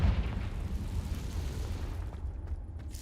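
A Confringo fire spell bursts in the Hogwarts Legacy video game as a deep, rumbling explosion that booms at once and then rolls away over a few seconds, loud and heavy in the low end, with no talking.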